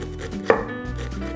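A kitchen knife chopping through an onion on a cutting board, a single crisp close cut with a sharp board knock, amid quiet kitchen background.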